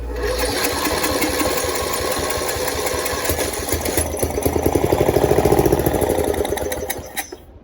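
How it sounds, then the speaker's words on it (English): A Briggs & Stratton small engine, primed with Valvoline starting fluid after the air filter is removed, fires and runs loud and close with a rapid, rough chugging beat for several seconds before cutting out near the end. "Let's remove the filter here and spray some starting fluid and give this engine a good test."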